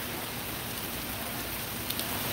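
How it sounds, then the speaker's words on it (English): Steady rain falls on a downtown Charleston street at night as an even, close hiss that fills the whole clip, with no talking heard. "that rain come fast"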